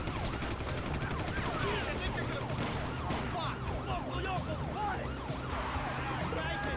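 Police car sirens wail in overlapping rising and falling sweeps amid bursts of gunfire during a chase in the video game Grand Theft Auto V, loud and continuous under a dense mix of game noise.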